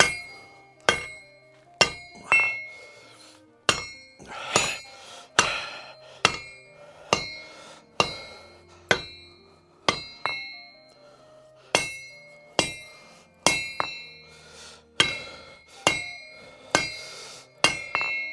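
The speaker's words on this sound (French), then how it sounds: "j'ai grossi au maximum avec le gros marteau de 5 kg" A heavy 5 kg hammer forges a Skyrim-style axe head on an anvil, striking in a steady series of about twenty loud, ringing metallic blows, each leaving a brief bright ring, with no talking.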